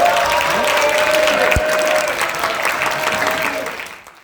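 A classroom audience of high school students claps for a classmate stepping up to present at a school book concert, a steady burst of many hands that fades out toward the end.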